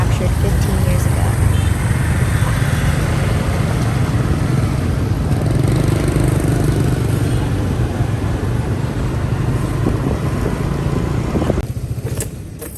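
A motorbike, made about fifteen years earlier and ridden for nearly eight, moves through Hanoi traffic in Vietnam with a loud, continuous engine and wind roar. A voice talks over the noise.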